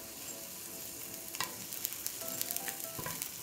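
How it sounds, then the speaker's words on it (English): Food fries in olive oil in a frying pan with a steady, close sizzle. Scattered scrapes and light clinks of stirring sound over it, and no one talks. "So I'm gonna add some olive oil in our frying pan."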